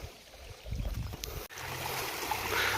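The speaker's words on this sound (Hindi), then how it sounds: "यहाँ पानी बह रहा है" Mountain stream water in the Himalayan hills, flowing in a steady, close wash that starts softer and rises after a short thump, with no talk over it.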